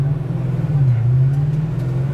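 A supercharged 850-horsepower 1963 Chevrolet Nova, driven hard, gives off a loud, steady, low engine drone that holds at a near-constant pitch for about two seconds, with no speech.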